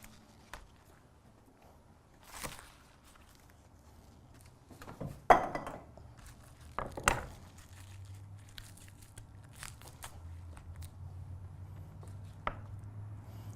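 Knife roughly chopping green onions on a cutting board, with a few scattered close chops and crunchy cuts between quiet gaps.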